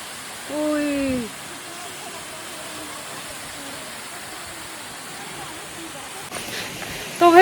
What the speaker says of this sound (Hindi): तो दोस्तों देखो कि तो ऊपर से गिर रहा है झरना।